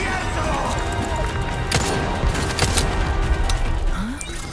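Gunfire from the video game Resident Evil 4 Separate Ways, dense shots and impacts in a continuous loud game mix, with someone talking over it.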